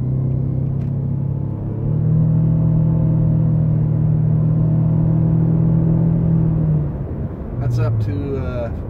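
A 2013 Nissan Sentra SR accelerates under throttle, its engine drone rising in pitch and holding a steady, loud rumble for several seconds before easing off, with road noise throughout.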